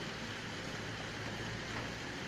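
Cool summer rain falls outdoors as a steady, soft hiss of drops, even and unbroken throughout, with no voices.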